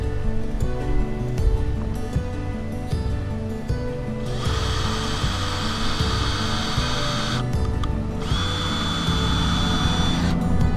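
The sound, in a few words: power drill drilling hole for gate latch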